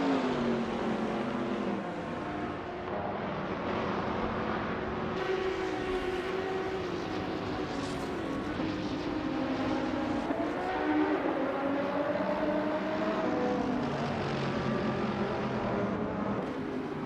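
A 2019 Radical SR5 race car in a racing video game, its engine droning steadily and loud throughout with rising and falling pitch as it shifts, alone with no talk.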